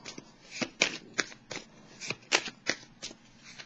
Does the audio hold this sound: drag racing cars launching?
no